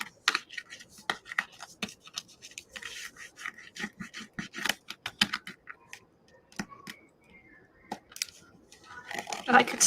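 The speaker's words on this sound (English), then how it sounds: "I could sit and do this all day, burnishing this" Close, scratchy rubbing strokes in quick irregular bursts as a decorative design is burnished onto a wooden pumpkin, with soft talking in the background at times.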